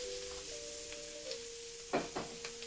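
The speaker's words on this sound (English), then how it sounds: "You can let those simmer for a little bit." Vegetables coated in roux simmer in a pan for shrimp étouffée, a low steady sizzle with a faint background hum and a couple of brief scraping stirs near the end.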